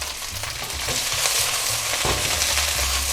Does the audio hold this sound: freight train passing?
no